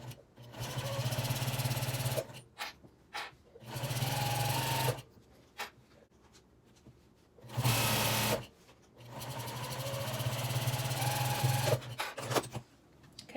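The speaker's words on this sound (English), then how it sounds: "we're gonna go ahead and back stitch at the beginning of the end at the 1/2 inch" Sewing machine with a zipper foot stitching a seam on a project bag, backstitching at the start and end. It runs in several steady buzzing bursts of two to four seconds, with quiet handling noises in the pauses.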